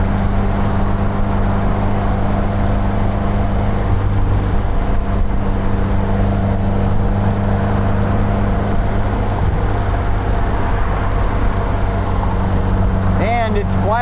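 A 1952 MG TD right-hand-drive roadster cruises at about 60 mph beside large dump trucks, giving a steady, moderate engine and road drone with low rumble throughout and a brief passing swell near the end.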